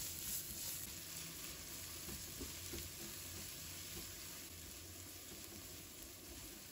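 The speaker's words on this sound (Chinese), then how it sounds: "接着把葱姜蒜放入锅中翻炒，" Scallion, ginger and garlic are stir-fried in a wok, producing a faint, even sizzle with light stirring clicks scattered through it and no voices.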